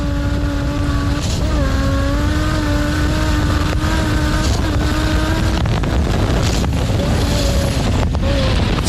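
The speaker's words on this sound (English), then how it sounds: "That truck sounds very nice there." A race truck at a speedway roars with a strong, steady engine drone, loud and near, the pitch holding mostly level with brief dips as it lifts and reapplies throttle.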